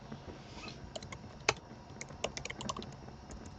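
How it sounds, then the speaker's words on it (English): Someone types a chat message on a computer keyboard, with quiet, close key clicks in quick irregular bursts and one sharper tap. "Can I type in the chat too?"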